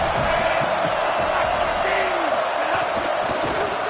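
Dense roar of a football stadium crowd at a college game between Bama and an opponent, a steady loud wash of thousands of voices with scattered shouts rising out of it, constant throughout.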